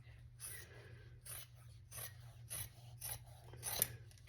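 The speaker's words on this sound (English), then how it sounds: "So we're gonna cut the fabric." Scissors snip through fabric for a small boxy pouch in a run of close, crisp rasping cuts, about eight strokes at a steady rhythm, heard alone with no talk.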